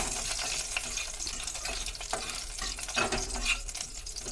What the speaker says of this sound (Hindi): जीरा तड़क गया है।